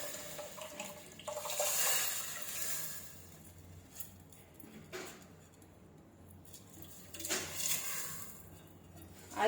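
Water pours and splashes into a cooking pot of rice in uneven bursts, soft and close, with no talking.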